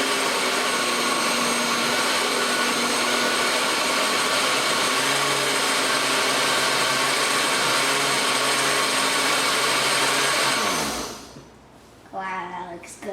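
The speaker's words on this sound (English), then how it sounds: "this is the official pepper blender" A blender whirs loudly and steadily while blending pineapple hot sauce peppers, a dense motor roar that runs for about eleven seconds, then cuts off abruptly, leaving quieter clatter and faint movement.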